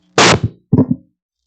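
A battery-powered handheld microphone hits the floor twice, a loud, sharp thud followed by a slightly softer second bump, then silence.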